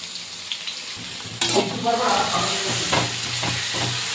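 Capsicum, ginger, garlic and onion are sautéed for fried rice. A quiet pan suddenly bursts into loud sizzling as they go in, then keeps frying with occasional stirring scrapes.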